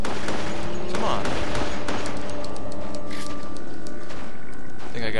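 Rapid gunshots ring out in the Resident Evil: The Darkside Chronicles video game, a mix of single shots and quick bursts layered over game effects, with someone talking over much of the action.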